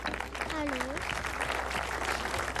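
Spectators clap steadily after the first round of a boxing fight between Roman Belaev and Semjons Moroseks, a dense even patter of applause heard from the arena with a brief whistle early on.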